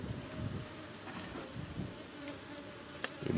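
Honey bees buzz steadily inside an opened beehive during frame work, a dense, even drone that stays close and moderate, with a few faint knocks and no talking.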